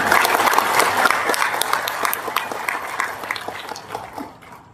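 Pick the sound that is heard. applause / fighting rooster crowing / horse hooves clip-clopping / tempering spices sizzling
applause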